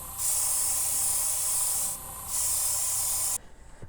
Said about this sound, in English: I'm going to start out by spraying this whole thing with an off-white ivory type color